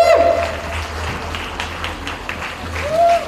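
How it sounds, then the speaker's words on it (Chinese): Audience applause at a film premiere launch event for the movie 《俠盜聯盟》, a short burst of clapping from a crowd mixed with voices and room noise. "掌声鼓励鼓励"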